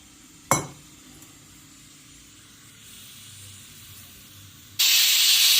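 A sharp clink sounds early, then quiet hissing before a pressure cooker cooking sambar abruptly lets out a loud, sustained rush of escaping steam.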